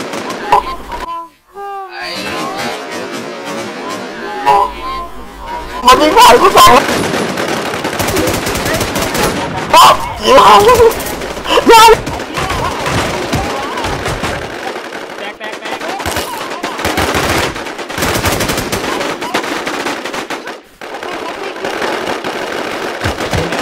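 Bursts of automatic gunfire and scattered single shots from a first-person shooter video game, loud and close, repeating across the stretch with short pauses, while players talk over the shooting.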